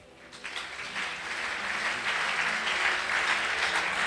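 A church congregation applauding in acclaim of Jesus, a dense crowd clapping that swells within the first second and stays loud and steady.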